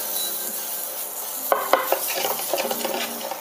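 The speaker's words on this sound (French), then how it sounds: "une fois que nos mirabelles ont commencé à saisir, on vient verser voilà, le sucre restant là, pour les faire doucement caraméliser" Mirabelle plums sizzle steadily in a hot pan as sugar is poured over them to caramelize, then a wooden spoon stirs with a run of close knocks and scrapes over the constant frying hiss.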